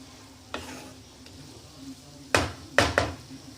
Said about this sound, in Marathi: याला अधूनमधून आपल्याला फिरून घ्यावं लागणार आहे, करपायला नको म्हणून